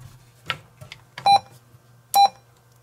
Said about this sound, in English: Key beep. That's probably driving everybody crazy